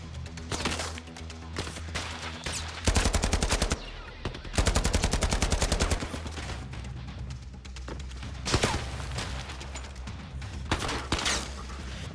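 Rifle fire in the VR shooter Zero Caliber comes as loud, rapid automatic bursts of sharp cracks, with several dense volleys separated by quieter gaps and scattered single shots.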